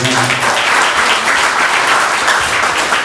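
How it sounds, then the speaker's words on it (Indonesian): A congregation applauds during a revival service at a Pentecostal church in Kupang, giving dense, loud, continuous clapping for a few seconds. "Tepuk tangan buat dia."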